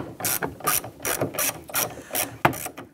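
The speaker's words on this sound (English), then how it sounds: "Using a T30 Torx bit and our extension, we're going to go ahead and remove the bolt holding the handle in place here." A ratchet fitted with a T30 Torx bit on an extension loosens a door handle bolt on a 2002-2008 Dodge Ram 1500, giving close, loud bursts of rapid clicking in a steady back-and-forth rhythm.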